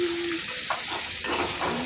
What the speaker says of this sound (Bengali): কেটে রাখা ভেজে রাখা ভেন্ডি আলু দিয়ে দিলাম। অল্প নাড়াচাড়া করে নেব।